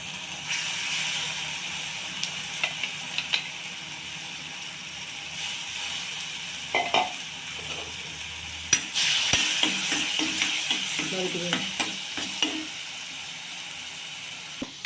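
Tomato puree frying in oil for a crab curry gives a steady, close hiss, broken by a few sharp clinks and stirring sounds partway through.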